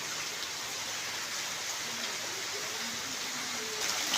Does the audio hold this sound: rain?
yes